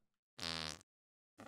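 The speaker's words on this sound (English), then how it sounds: "I just heard farting." Two loud, close fart sounds, one long buzzing blast and a shorter one after a second of silence, in the online game Goose Goose Duck.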